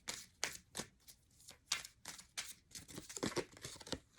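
Essential oil cards from a deck are shuffled and drawn, a run of crisp papery riffles and slides close up, rhythmic and continuous.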